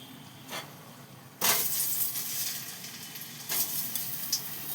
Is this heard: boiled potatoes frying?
yes